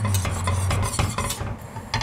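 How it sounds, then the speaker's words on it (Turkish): A whisked egg yolk mixture is stirred into a creamy potato soup in a pot, giving loud, close, repeated scraping strokes in a steady rhythm with no talking. "Karıştırıyoruz."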